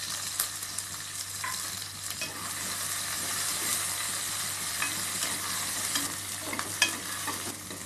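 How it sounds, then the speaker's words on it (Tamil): Sliced onions and green chilies sautéing in a pan for mutton intestine curry, making a steady, moderately quiet sizzle with occasional clicks and stirring scrapes throughout, no talking. "நல்லா வணக்கி விடுங்க."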